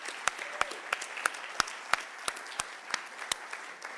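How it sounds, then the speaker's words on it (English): Clapping at a peace conference at Stanford University, heard as sharp, evenly spaced single claps about three per second, close and distinct rather than a full crowd ovation. "give Sadhviji another round of applause"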